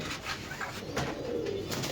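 Pigeons at a pigeon farm in Mirpur 13 give faint, low cooing over a steady background hum, with a few soft coos in a short stretch.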